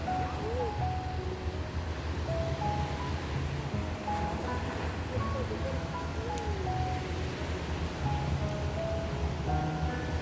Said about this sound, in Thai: ชมคลื่นทะเลนะคะเพื่อน